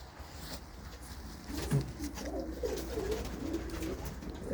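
A female Khatian pigeon coos softly in a low, rolling series of calls, fairly close, against faint background noise.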